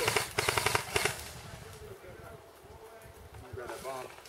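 Airsoft guns fire cover bursts during an outdoor game, a quick run of sharp, rapid pops at the start, then fainter scattered shots under voices talking.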